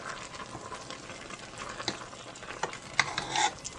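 Pepper steak with vegetables being stirred in a hot pan, a steady wet sizzle with scraping and clinking spoon strokes that grow busier toward the end, close and alone.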